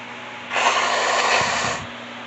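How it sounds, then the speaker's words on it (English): A person blows their nose in one long, forceful honking exhale lasting over a second, close to the microphone, with a faint hum underneath. "Sorry about that, I had to blow my nose."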